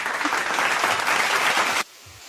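Several people clap together in a dense, lively burst that fills nearly two seconds and then stops abruptly, giving way to quiet room sound.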